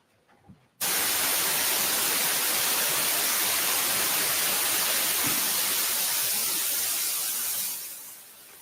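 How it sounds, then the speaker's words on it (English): Steady, loud white noise hiss played in a courtroom during a bench conference, starting abruptly after a faint moment and holding evenly before fading slightly at the end. "with the white noise."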